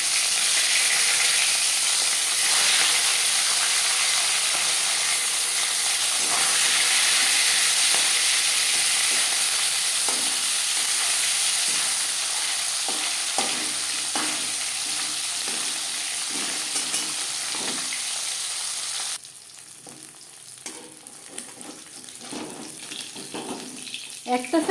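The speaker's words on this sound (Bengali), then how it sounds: "একটা সাইড ভাজা হয়ে গেলে অপর সাইডটা উল্টে দেবো।" Parshe fish sizzles in hot oil in a pan, a continuous bright hiss with small crackles that gradually thins and drops in level near the end, with no voices.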